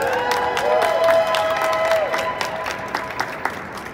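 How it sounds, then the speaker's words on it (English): An audience at a Legoland New York pass launch event gives kid reporters a round of applause, loud sustained clapping with some cheers and a whistled tone early on, tapering into scattered claps. "give them a round of applause."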